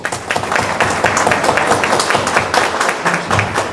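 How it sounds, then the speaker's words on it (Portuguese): A room of public servants at the close of a two-hour talk breaks into brisk, close applause, dense overlapping claps that stay steady and loud throughout. "Então, um forte aplauso, pessoal."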